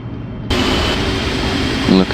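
PMDG 777 British Airways airliner taxiing at Gatwick in the FSX flight simulator, a steady broadband engine roar that jumps louder early on and holds, with someone speaking over it.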